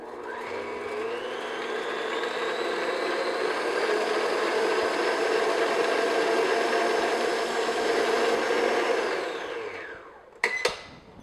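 An electric mixer beats chilled cream at medium-high speed, a steady loud whirring drone that rises slightly in pitch as the cream thickens, then cuts off with a couple of sharp clicks at the end.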